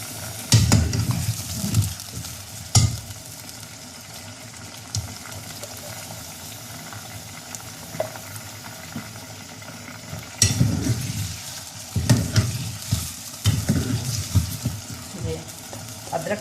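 Ginger-garlic paste sizzles and fries with meat in a pot for an aloo gosht, with bursts of stirring and scraping over a steady hiss, louder spells around the start and near the end.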